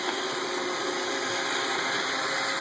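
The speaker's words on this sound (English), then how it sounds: "iRobot Roomba." An iRobot Roomba robot vacuum whirs continuously at close range, a steady motorized hum with a high whine and no pauses.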